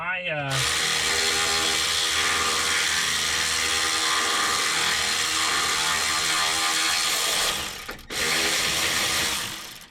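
Ratchet work on brake parts during a brake job: a steady, loud mechanical whirring and clicking runs continuously close by, with a brief dip near the end before resuming.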